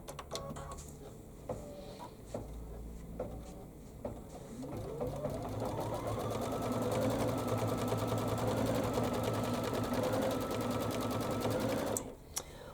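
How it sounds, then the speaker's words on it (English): An embroidery machine stitches a placement outline for circles on a chenille pillow project, a fast, steady mechanical whir with rapid needle ticks that ramps up, runs evenly for several seconds, then stops. "I'm still going to go ahead and stitch out the placement stitch for the circles"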